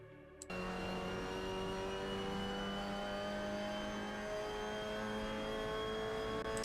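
The engine of a Mazda MX-5 Cup car in Assetto Corsa, at the Hockenheimring, holds a loud, steady, high-revving drone after a brief softer start. It continues under sustained throttle with a constant whine.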